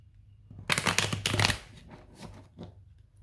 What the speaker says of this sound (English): Let's grab your tarot cards and see what else comes through here.